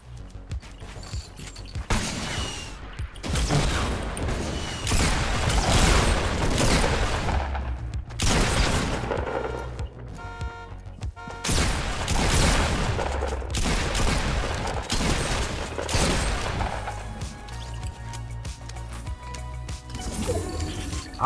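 Video game gunfire in Fortnite: bursts of rapid shots and clattering weapon mechanics come in several loud volleys separated by brief pauses, with no talking.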